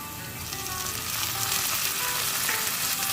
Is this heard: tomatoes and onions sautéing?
yes